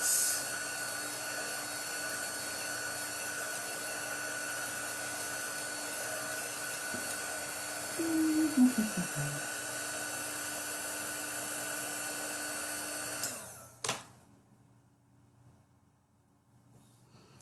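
A handheld dryer blows steadily up close to dry chalk paste on a craft door tag, its even whooshing hum holding for about thirteen seconds before switching off into near silence.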